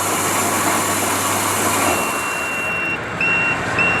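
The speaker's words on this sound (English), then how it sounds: "After process finish, here is the buzzer. It will make the sound so you can understand that it's finished." A paddy rice quality test machine running loudly, then its buzzer sounds a few short electronic tones as the process finishes.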